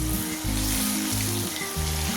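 Prawns frying over low heat in a pan with a steady close sizzle and crackle, while low tones hum underneath throughout.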